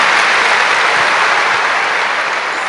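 A church audience bursts into dense, sustained applause, loud and close, many hands clapping together at a steady roar with no pause.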